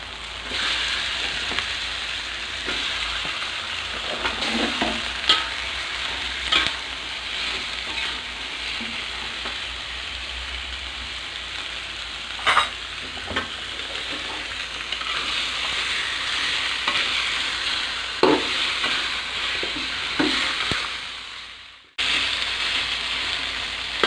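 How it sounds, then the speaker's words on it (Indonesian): Chicken pieces stir-fried in a pan for Indonesian ayam rica-rica give off a steady, close sizzle, with occasional brief scrapes and clacks from stirring, and no talk. "Kita tumis sampai wangi ya geng. Kasih ayamnya."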